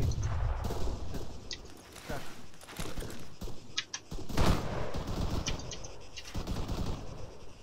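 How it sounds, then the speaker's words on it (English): Mortar and small-arms fire in an Arma military game battle, with repeated sharp bursts and booming shots scattered across the clip under constant radio chatter and talk. "Mortar, start shooting the waypoint 2."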